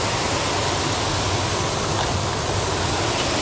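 A waterfall on a mountain stream in upper Shizuoka roars as a dense, continuous wash of falling water. It is steady and fairly loud, with no other sounds and no talk.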